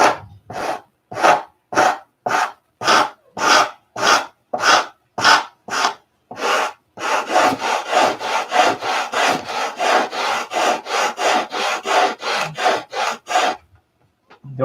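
Sandpaper rubs along the grain of wood in rhythmic back-and-forth strokes, evenly spaced at first and then quicker and denser, each stroke a close, raspy scrape.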